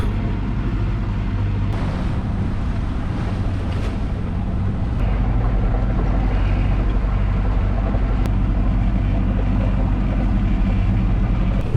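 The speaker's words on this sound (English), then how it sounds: "We've been sailing for just over 5 hours, or I'd rather say motoring" A sailboat motors through the Swedish archipelago, its engine a steady low rumble mixed with rushing water and gusts of wind buffeting the microphone, with no voices.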